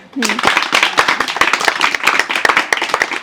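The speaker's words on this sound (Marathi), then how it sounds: "सगळ्यांनी हात लावा आणि जरा जा टाळ्या वाजवा रे" A small group claps for a young wrestling gold medal winner, giving a dense run of sharp, close, fairly loud hand claps that starts abruptly and carries on steadily, with voices mixed in.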